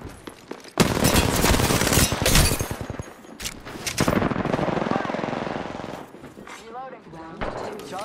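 Sustained rapid automatic gunfire from an Apex Legends firefight, loud and close, running in long bursts with brief gaps, mixed with in-game character voice lines.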